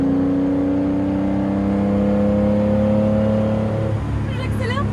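A 2021 Porsche 911 S of the Type 992 sends its flat-six engine note loud and close under acceleration, holding a steady tone before it shifts and falls away near the end.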